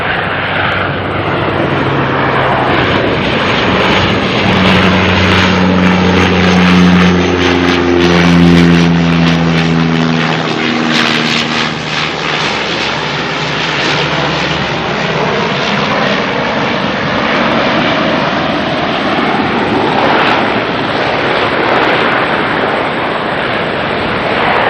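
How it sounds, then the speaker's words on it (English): Air New Zealand Dash 8 turboprop arriving from Whangarei and landing at Auckland Airport, a loud, close roar of engines and propellers with a falling tonal whine that sweeps past and continues as a broad rumble throughout. "NZ5225 coming in from Whangarei next. Another Dashi."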